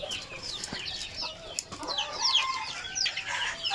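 A chicken recovering from a cold clucks in short, repeated bursts, fairly close, with other fowl calling around it in a busy farmyard setting.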